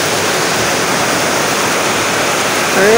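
Heavy monsoon rain pouring down outdoors, a dense, loud, continuous broadband rush with no gaps, like a downpour close by; a faint whistle-like tone rises near the end.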